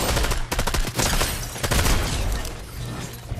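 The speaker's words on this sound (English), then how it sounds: "I'm getting shot at." Gunfire in Fortnite Zero Build, a loud close burst of rapid automatic shots, then scattered single cracks and trailing impacts over about three seconds, with no talk.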